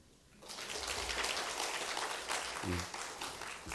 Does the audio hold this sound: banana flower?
no